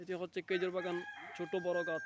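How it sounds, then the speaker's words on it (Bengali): A rooster crows a few times in a date palm orchard, fairly faint and set back, while someone speaks over it nearby. "ওইদিকে মোরগের ডাক শুনতে পাচ্ছি।"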